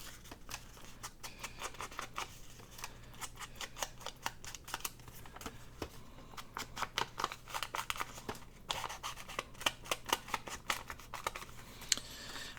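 Scissors snip through junk mail paper in a quick run of sharp, crisp cuts, close and fairly quiet, with brief pauses between bursts and a faint hum underneath.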